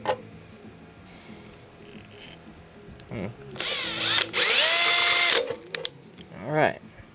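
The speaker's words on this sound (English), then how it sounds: "use a small drill bit and poke the holes through those tape" A small drill bit whines up loudly in a couple of high-pitched bursts, poking holes through tape on a tube amp board, spinning up and winding down, with quieter handling noises around it.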